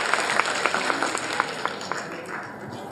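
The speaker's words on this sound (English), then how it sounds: "he deserves a huge round of applause" An audience at a school event applauding a prize winner, a steady wash of many hands clapping at moderate volume, with a few sharper claps standing out.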